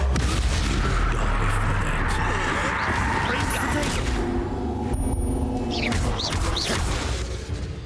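A spell cast during Hogwarts Legacy combat gives a sustained magical roar and whooshing burst, loud and dense throughout, with crashing impacts and game effects layered on top.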